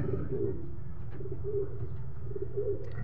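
Pigeons in a large cage coo in a steady repeating rhythm, soft rolling calls close by over a constant low background rumble.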